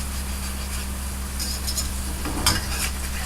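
French fries cooking on low heat in a pan, a steady soft sizzle running throughout with brief scraping and stirring sounds near the middle, no voices.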